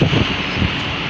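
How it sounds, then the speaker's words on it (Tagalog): Wind gusts buffet the microphone outdoors near a fast food restaurant, a loud rumbling rush with brief surges at the start and again midway. "Buti lang medyo mahangin, may panangga pa sa init."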